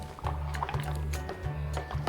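Air bubbles escaping from a melodica hose submerged in a mixed cleaning liquid, giving soft irregular gurgles and liquid pops over a steady low hum, close and fairly quiet.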